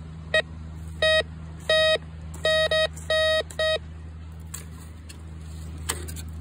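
A metal detector sweeping over buried metal in a river gives a series of short, sharp electronic beeps, some single and some in quick pairs, then falls quiet against a steady low hum.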